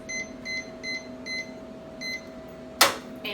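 A kitchen timer gives short electronic beeps in a steady series while being set during tomato pressure canning, over a low hum, ending with a sharp click.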